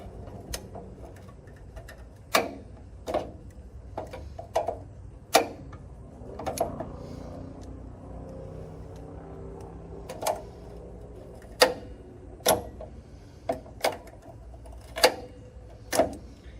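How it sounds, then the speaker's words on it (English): Sharp metallic clicks of a hand crimper pressing a metal gutter end plate onto a gutter, sealed with OSI sealer, about a dozen crisp snaps spaced irregularly, close and loud over a quiet background. "We want to do 2 crimps on each side of this end plate."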